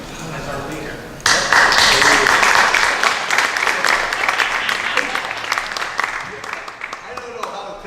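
Meeting room applause for a departing club leader at his last meeting, a sudden burst of many hands clapping, loud and close, slowly thinning out, with talk underneath.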